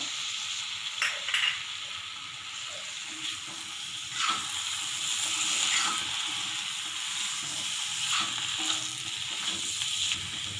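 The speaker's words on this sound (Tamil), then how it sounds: "நல்லா வெங்காயம் மடங்குற வரைக்கும் நல்லா வதக்கிடுங்க" Steady sizzling and hissing of onions sautéing in a pan for kurma, with occasional scraping stirs, continuous and close throughout.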